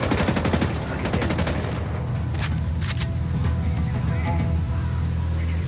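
Sicarios firing rapid automatic gunfire in Ghost Recon Wildlands, dense bursts of shots that settle into a continuous crackling rattle at a distance, loud throughout the clip.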